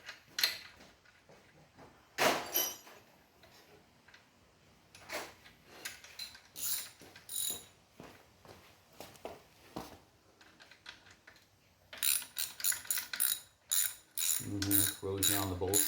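A socket wrench clicks in short ratcheting bursts on corroded bolts during an e-bike bobber build, with irregular metallic clatter throughout and denser, faster clicking near the end.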